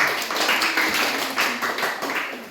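A burst of hand clapping from a group, steady and fairly loud, with irregular claps blending together throughout.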